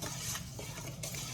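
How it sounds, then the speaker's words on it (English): Half a cup of sugar being stirred into a homemade suet mix for birds, a soft continuous scraping and swishing close by, with a couple of faint utensil taps; no talking. "I like to stir it along the way as I put each one of them in there"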